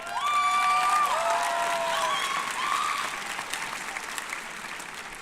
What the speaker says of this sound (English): how about another nice round of applause for all of these very talented young men and women